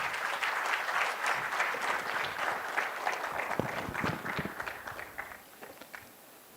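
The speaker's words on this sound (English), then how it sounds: "please welcome him with a massive round of applause" An audience at a 40th Foundation Day ceremony applauds to welcome a speaker, with sustained clapping from a sizeable crowd in a hall that gradually thins out and fades near the end.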